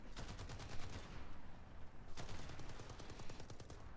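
Bursts of gunfire and artillery fire from the War Thunder Mobile game, with rapid rattling volleys, a brief lull, then renewed close, loud shooting.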